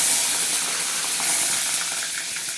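Curry leaves dropped into hot oil with spluttered mustard seeds for mango rice, a bright steady sizzle and hiss with small crackling pops, close and continuous.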